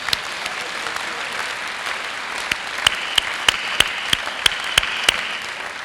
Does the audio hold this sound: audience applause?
yes